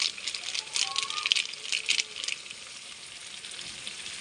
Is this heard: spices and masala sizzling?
yes